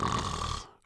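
A maid snoring loudly in a bed at night, one long rasping, rumbling breath that is close and heavy, then cuts off abruptly with no speech.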